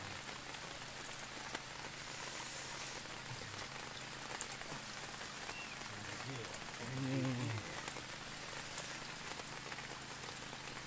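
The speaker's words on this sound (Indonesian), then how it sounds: "Ini cuaca terus hujan" Steady rain falls over a flooded residential area of Martapura under a white overcast sky, a dense, even hiss that holds throughout, with a brief faint voice-like sound partway through.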